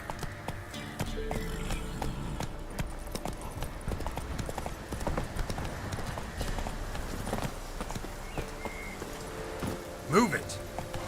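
Horse hooves clip-clop in a steady trotting rhythm in The Witcher 3, close and continuous, with a rider's voice speaking over them and a brief whinny-like sound near the end.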